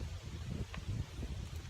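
Steady low wind rumbling and buffeting against the microphone outdoors beside a small camp stove, quiet and continuous, with faint rustling in the background.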